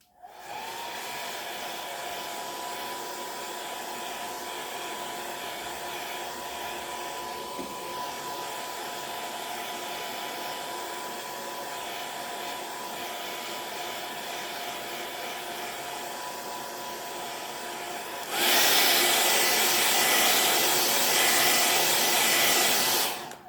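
A hair dryer blows steadily for over twenty seconds to dry paint on a handmade chalk sign, a continuous whirring hum that jumps to a louder, harsher rush near the end before cutting off.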